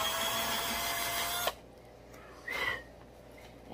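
A power drill bores pilot holes for mounting a towel rack, whirring steadily for about a second and a half before cutting off, followed by a short second burst.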